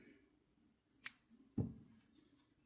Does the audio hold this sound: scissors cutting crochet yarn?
yes